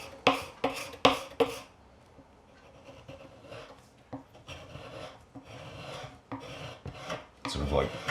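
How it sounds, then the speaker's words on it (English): A sharp knife scrapes the finish off a neck-through guitar. Rasping strokes come in a fast burst, then slower, longer scrapes follow, close and fairly loud. "the whole scraper thing as opposed to sanding is an interesting concept"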